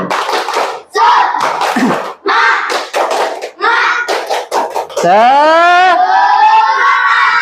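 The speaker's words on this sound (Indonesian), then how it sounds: "Tepuk semangat." A classroom of children doing the rhythmic 'tepuk semangat' spirit-clapping routine, with bursts of patterned group claps and chanting voices, ending in a sustained loud shout together.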